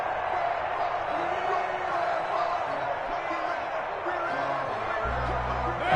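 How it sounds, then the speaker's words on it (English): Stadium crowd in a PS4 football video game during a wild card playoff matchup, a dense, steady roar of cheering that holds loud throughout, with a low thump near the end. "That just means this crowd's going to get even louder."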